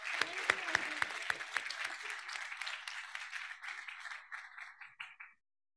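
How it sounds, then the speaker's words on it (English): An audience at the DigiHealthDay 2023 closing ceremony breaks into loud applause. A few sharp, distinct claps open it, then it swells into a dense, steady roar of clapping that thins out and stops after about five seconds. "Big round of applause."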